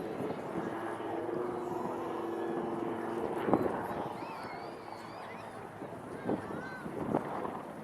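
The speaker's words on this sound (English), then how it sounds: "This is the Naval Wildcat HMA-2" A Naval Wildcat HMA-2 helicopter hovers over the air show at RAF Cosford, its steady rotor and engine drone continuous and fairly distant, rising slightly with brief louder swells, with wind rumble on the microphone.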